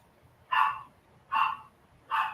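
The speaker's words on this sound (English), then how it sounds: "Oh, that's not my barking dog this time." A dog barks three times at an even pace, each bark short and moderately loud, separated by near silence with a faint low rumble beneath.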